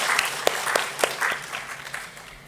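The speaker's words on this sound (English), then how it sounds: "Let's give them all a big round of applause." A short burst of audience applause at a tech summit in Bengaluru, scattered claps with a few sharp individual hits over a soft crowd wash, fading toward the end.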